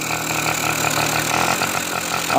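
Yamaha Chappy moped with a small engine and two-speed automatic, freshly started and idling with the idle still unadjusted; a steady, loud buzzing putter held close throughout.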